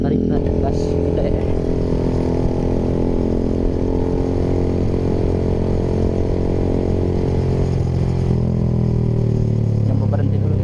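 Honda Sonic 150R motorcycle fitted with a Proliner TR1R short exhaust, riding at night in light traffic with a steady loud engine drone, a rise in pitch near the end, and a rider talking over it.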